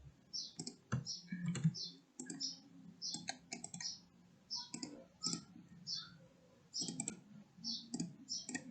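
Computer keyboard keys tapped during Excel editing, including a Ctrl X shortcut: close, crisp clicks that come singly and in small clusters at an uneven pace, quiet and without talk.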